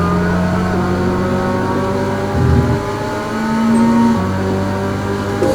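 Race car engines in a GT300 league round of an online racing game drone steadily at high pitch, with shifts in tone as cars gear change and jostle in slipstream, loud and continuous.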